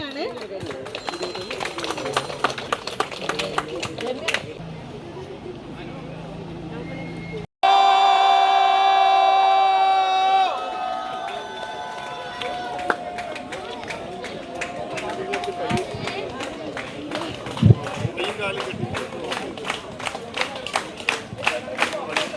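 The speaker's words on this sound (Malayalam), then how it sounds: "കയ്യടി കുറയ്ക്കണ്ട" Audience clapping at a swimming club ceremony fills the room in scattered, repeated bursts, with someone speaking over it and a brief tone partway through.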